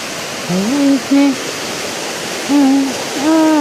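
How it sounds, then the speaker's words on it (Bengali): Floodwater from a road flowing into a low-lying house makes a steady, close, broadband rush throughout, with a voice speaking in short bursts over it. "উল্টো তো রাস্তার জল আমাদের বাড়িতে ঢোকে, রাস্তা থেকে বাড়ি নিচু।"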